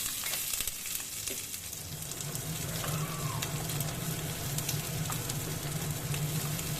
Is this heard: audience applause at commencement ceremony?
no